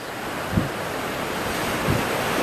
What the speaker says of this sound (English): you can hear the wind creating a stereo effect on both ears, coupled with the waves